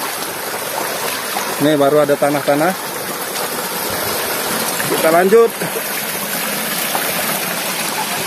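A rocky river rushes in a constant close wash along the Way Bernung, while people talk briefly twice over the water.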